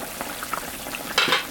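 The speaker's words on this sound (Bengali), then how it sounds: "ঝোলটা ফুটে গেছে" Rohu fish curry boiling in a pan gives soft, scattered bubbling pops and a brief louder burst of sputtering near the end.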